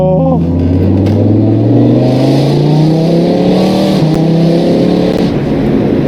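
BMW M3 E46 fitted with a V10 engine and DCT gearbox accelerating hard in second gear on the autobahn, a loud continuous engine note climbing steadily in pitch from inside the car with no talk.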